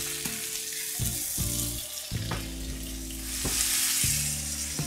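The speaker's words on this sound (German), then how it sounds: "gebe jetzt meine Paprika hinzu und brate die Paprika an" Bell peppers frying in a hot pan, a loud continuous sizzle close up with several sharp stirring knocks and scrapes spaced through it.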